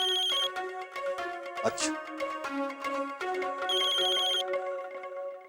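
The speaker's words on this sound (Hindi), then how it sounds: "किसका फोन है?" A phone rings with a melodic, repeating electronic ringtone, loud and close in a home setting, with a short spoken word from a person near the end.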